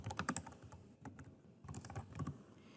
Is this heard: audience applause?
no